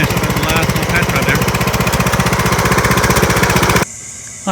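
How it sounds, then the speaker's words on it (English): A loud Craftsman YS 4500 riding lawn mower engine chugs steadily with a fast rhythmic pulse while mowing, close by, then cuts to quieter background noise near the end. "Mower is cutting good. It idles good, it runs good."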